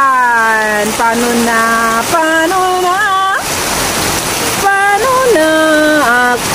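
Heavy rain falls during the rainy season as a steady, loud broadband hiss, with tonal, voice-like sounds rising and breaking over it in short phrases.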